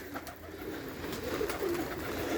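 Pet pigeons or doves, a male and female pair, cooing softly in a low repeated murmur against steady background noise outdoors on a sunny evening, with no one speaking.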